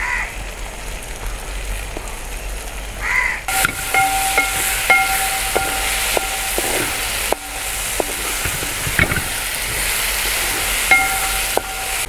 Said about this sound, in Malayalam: അപ്പോൾ കുറച്ച് വേപ്പില നമുക്ക് ഇതിലേക്ക് ചേർത്ത് കൊടുക്കാം